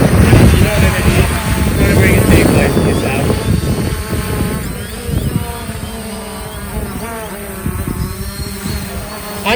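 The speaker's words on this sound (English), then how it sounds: "It's quite a noisy thing, but not as noisy as some other drones." A Fimi X8 SE drone flies close by in sunny Bulgaria, its rotors giving a loud, insect-like buzz whose pitch rises and falls as it manoeuvres, with someone talking over it at times.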